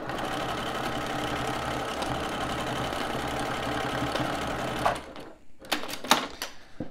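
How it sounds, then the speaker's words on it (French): A sewing machine stitches a seam on a toiletry bag strap, running in a steady rhythmic whir as it goes forward and back, then stopping with a few clicks and handling knocks near the end. "Donc je fais marche avant, marche arrière vraiment pour renforcer ma couture."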